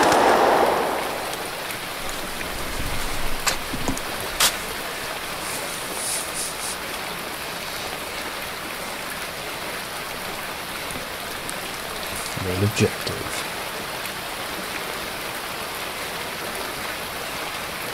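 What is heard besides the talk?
rain falling in a video game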